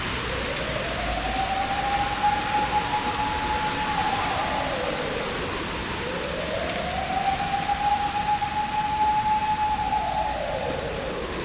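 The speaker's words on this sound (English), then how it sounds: "It's raining really hard right now" Steady, dense rainfall hisses continuously on a street in Kita-Akabane, Tokyo, with two rising-and-falling siren-like wails passing in the background.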